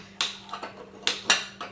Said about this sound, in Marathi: कढई ठेवून घ्यायची, तेल टाकून घ्यायचं आहे ना कढईत.